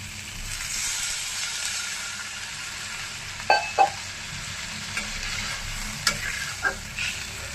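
Sautéed potatoes in a pan sizzle steadily as water is added, with a few sharp metal spoon clinks against the pan near the middle and end, close and alone with no talking.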